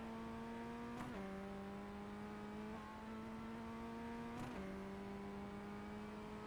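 The FF1600 Formula Ford race car in iRacing drives the Circuit de Lédenon, its engine holding a steady, buzzing drone. A short dip around a gear change is followed by the engine pulling back up, and no voices are present.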